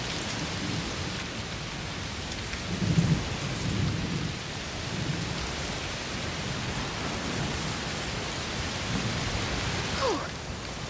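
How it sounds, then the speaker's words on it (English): Heavy rain and a thunderstorm in the video game A Plague Tale Requiem, a dense steady downpour hiss with low rumbles of thunder rolling beneath it, no voices. "Oh, it's raining a lot."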